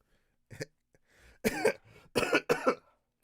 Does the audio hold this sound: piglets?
no